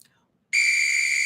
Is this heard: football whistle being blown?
yes